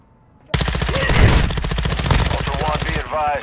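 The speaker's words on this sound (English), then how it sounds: "Taking effective fire." Rapid automatic gunfire in the first-person shooter DMZ, a loud continuous burst of fast, even shots lasting about two and a half seconds, followed by a voice speaking.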